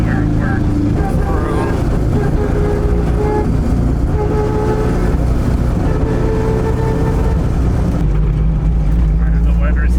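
A Toyota AE86 engine fitted with Weber carburetors runs and revs unevenly, a loud steady drone with shifting pitch and a few throttle stabs, while people talk over it.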